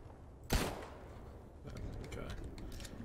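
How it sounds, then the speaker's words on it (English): A single sharp gunshot from the game STALKER Anomaly Gamma cracks loudly near the start, followed by lower, busier game noise and some faint background activity. "I'll just shoot him."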